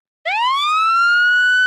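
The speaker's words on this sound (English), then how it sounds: "But we can also activate the whale siren" A wail siren from an Unreal Engine 5 siren control system kicks in abruptly after a brief silence and swells upward into a loud, steady, piercing tone that holds to the end.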